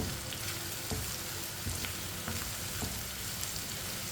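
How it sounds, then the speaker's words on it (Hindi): Chopped ridge gourd (tori) frying in a pan makes a constant, hissing sizzle, with faint scraping as it is stirred and mixed. "कटी हुई तोरी डाल लेंगे। अच्छी तरह मिक्स कर लेंगे।"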